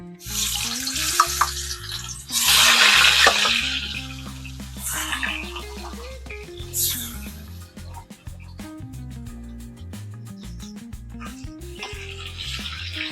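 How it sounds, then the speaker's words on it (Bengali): Pieces of chitol fish drop into hot oil in a home kitchen, bursting into loud sizzling spurts that rise and fade over a background of tonal sound. "তেলটা গরম হয়ে গেছে, এবার মাছগুলো দিয়ে দেবো"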